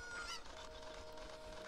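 A cucco, a chicken in Zelda: Ocarina of Time, gives one short, faint honking cluck near the start over quiet game ambience.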